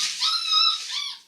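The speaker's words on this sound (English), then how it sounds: "it's a puppy" A black puppy with white feet whimpers in a series of high, thin whines, close and fairly quiet, with no talking.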